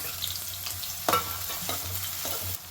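Chopped onion and green chillies fry in hot oil for a rice pulao, giving a steady close sizzle with a few sharp stirring scrapes and clatters against the pan.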